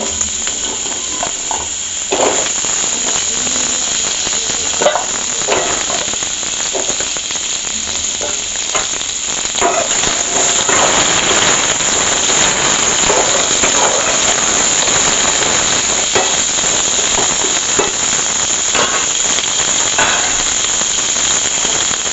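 Small cut pieces of pumpkin fry in a pan, a loud, continuous close hiss and crackle that runs steadily throughout, thickening after the first few seconds.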